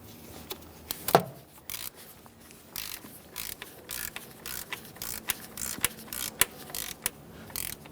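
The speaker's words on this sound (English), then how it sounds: "Now that we have the hardware bottomed out, it's time to torque it." Ratcheting clicks of a torque wrench tightening hardware on a Toyota Sienna 3.5L V6 during a camshaft position sensor swap, close and irregular, in short bursts of clicking with sharper snaps between them.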